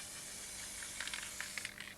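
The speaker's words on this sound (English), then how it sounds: "Now, start spraying." A soft, steady hiss of an aerosol spray can, with a few brief bursts of sharper spraying in the second half.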